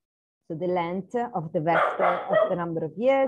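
A dog barks and yips repeatedly at close range, loud bursts overlapping a person speaking steadily.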